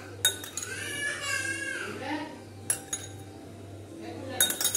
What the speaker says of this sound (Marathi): आता आपण हे जे दही घेतलं आहे ते ह्या छोट्या बाउलमध्ये काढलं दुधामध्ये मिक्स करूया